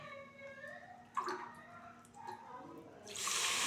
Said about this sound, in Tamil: இதில் கிட்டத்தட்ட ஒரு பதினாலு டம்ளர் தண்ணி சேர்த்துக்க போகிறோம்